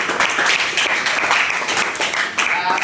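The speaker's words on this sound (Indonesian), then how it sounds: "boleh tepuk tangan untuk Mas Tio" An audience claps for Mas Tio at a discussion event, a dense, steady patter of hands lasting a few seconds with a voice or two mixed in.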